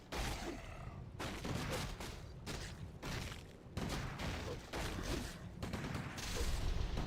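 Rifle fire from several riflemen in a Warcraft III match, heard as dense repeated bursts of shots and impacts mixed with battle clatter, fairly loud and continuous with brief gaps, with no talking over it.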